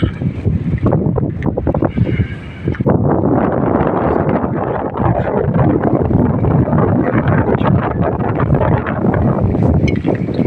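Strong wind buffets the microphone outdoors at a fishing camp in loud, continuous low rumbling gusts, with a brief dip near the start before the blustery roar resumes.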